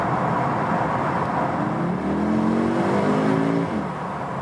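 An Audi SQ2, window down, accelerates with a steady roar of engine and road noise and a brief rising engine tone in the middle.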